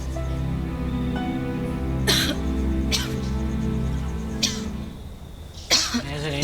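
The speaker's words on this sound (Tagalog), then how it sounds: "inuubo pa rin kayo ah" A person coughs in several sharp, separate bursts over a sustained musical background in an indoor scene, each cough loud and close.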